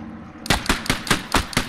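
A machine gun in the Post Scriptum war game fires a steady burst of about six evenly spaced, loud, sharp shots right after a quiet start.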